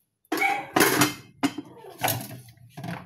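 A metal cooking pot clanks and scrapes as it is handled during washing, with a few separate close clatters and knocks at irregular intervals.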